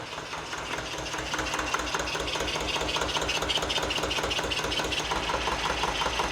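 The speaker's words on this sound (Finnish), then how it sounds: "Imuilma ääntä." Overhauled Zetor 25 tractor engine running steadily at idle with a dense, throbbing intake rumble and fast mechanical pulsing, loud and close, without a break.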